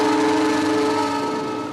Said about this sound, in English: All right, 1 whistle.